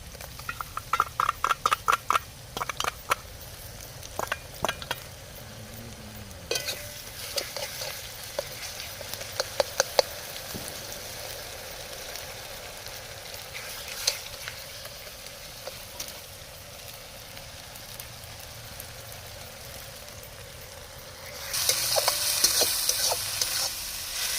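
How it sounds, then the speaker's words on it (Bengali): Ginger-garlic and green chilli paste fries with browned onions in a low, continuous sizzle, with frequent spoon scrapes and clicks early on and a louder hissing burst near the end. "পেঁয়াজ ব্রাউন ব্রাউন করে ভেজে নিয়েছি দিয়ে দেবো আদা রসুনের পেস্ট সঙ্গে কাঁচা লঙ্কাও বাটা আছে এর মধ্যে"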